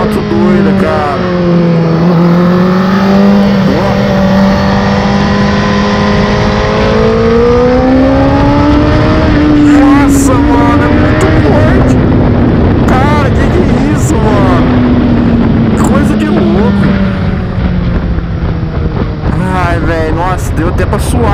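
A Honda CBR 1000 RR Fireblade SP sport motorcycle engine roars loudly and continuously while riding, its pitch rising and falling as it revs through gears, with a voice talking over it.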